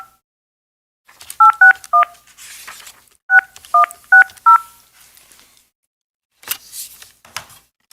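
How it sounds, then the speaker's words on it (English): Touch-tone telephone keypad beeps dial a phone number to connect a participant into a city administration committee meeting, two quick bursts of paired tones separated by a pause, followed by faint clicks and rustle, with no talking. "so we will bring Rosa Luna in on phone."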